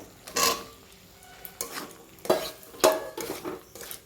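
Jackfruit seeds and potatoes are stir-fried in spices, with scattered clinks of a spatula against the pan and light stirring scrapes over a faint sizzle.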